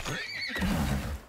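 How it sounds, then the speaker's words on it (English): A horse in the video game Icarus gives one loud, close whinny that rises and falls, followed by a lower rough snort, all within about a second. "God, these horses are violent, man."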